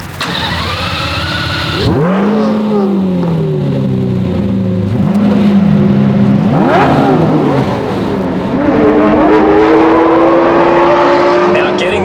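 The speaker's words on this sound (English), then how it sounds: "the noise coming from that V12 engine sitting over your shoulder" A Lamborghini Murcielago V12 engine starts and revs loudly, its pitch rising and falling through several throttle blips before settling into a strong sustained drone nearby.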